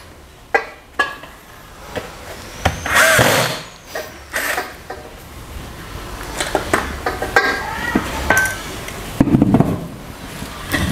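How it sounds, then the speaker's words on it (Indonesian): A power drill driving screws while a dining table is assembled during a furniture unboxing, with several short whirring bursts and knocks scattered among handling clatter, fairly close. "Kita menggunakan alat bantu bor."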